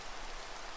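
Steady rain in the Minecraft video game, a soft even hiss of falling drops that holds through the short stretch without a break, fairly quiet, with no voices over it.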